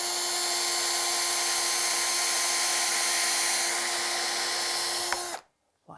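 A power drill bores a pilot hole into wood before a screw goes in for a small wooden bench, a loud steady whine running continuously for about five seconds before cutting off abruptly into silence.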